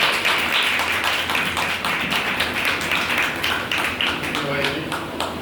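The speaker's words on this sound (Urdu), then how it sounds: "بھائی پترس آپ کی زوردار تالیوں میں خدا کے بندہ کو بلائیں" A worship congregation at a Thanksgiving service claps to welcome the preacher, a continuous close, busy patter of many hands at steady loudness throughout.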